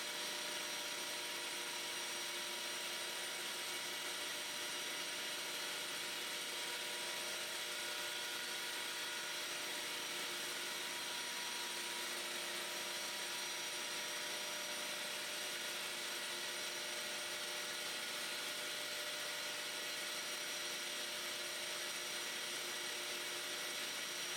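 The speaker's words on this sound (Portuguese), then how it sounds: "Essa lixadeira só funciona assim." A steady, high-pitched electric whir of a power sander sanding rings runs without pause, loud and close, with no voices over it.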